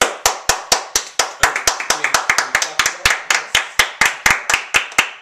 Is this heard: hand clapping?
yes